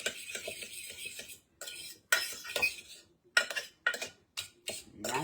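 A utensil whisks cinnamon into an egg mixture for French toast in a bowl, giving quick clinking scrapes against the dish in bursts with short pauses, close and clear with no voices.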